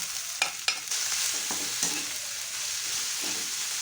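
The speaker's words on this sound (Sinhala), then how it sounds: "සුදු ලුණු කරපිංචා පොඩ්ඩක් බැදුණු ගමන්ම මම සියුම්ව කපාගත්ත ලුණු ටික එකතු කරගන්නවා" Chopped onions are stirred into a pan where garlic and curry leaves are already frying, with a loud scrape and clatter at first, then a bright, steady sizzle that continues alone.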